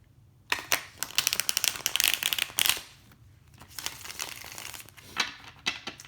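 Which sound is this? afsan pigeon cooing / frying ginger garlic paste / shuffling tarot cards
shuffling tarot cards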